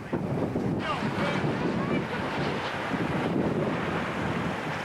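Rear flank downdraft wind from a 1994 tornado near Gainesville, Texas, a steady loud rushing roar buffeting the microphone throughout, with no clear voices.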